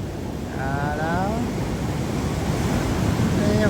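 Ocean waves breaking on the beach at Half Moon Bay, a steady loud wash of surf with wind across the microphone and faint bird calls above.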